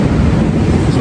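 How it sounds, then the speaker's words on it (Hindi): Ocean waves washing onto a beach in Goa, a steady broadband rush of surf with wind buffeting the microphone, continuous and fairly loud, no voices. "ये आवाज़ सुनो, सिर्फ लहरों की आवाज़"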